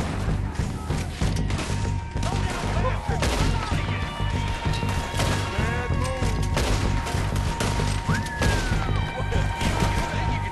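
Gunfire in Red Dead Redemption 2 cracks out in repeated loud shots amid busy game sounds, with a voice talking over the action.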